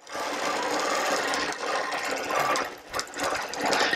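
A sewing machine runs in a fast, continuous stitching whir while machine basting a quilt along the bottom row to the edge of a seam. It is close and moderately loud, with brief dips in speed.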